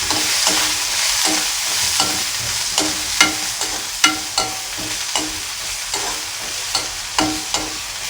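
Sliced onions fry in a little oil in a kadai for a stuffed bitter gourd curry, a steady close sizzle broken by regular scraping strokes of a spoon stirring the pan, with no talking.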